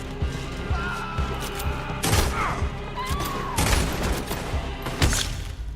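Repeated pistol gunfire in Red Dead Redemption 2, several sharp loud shots at irregular intervals over a busy game soundscape with ricocheting whines and thuds.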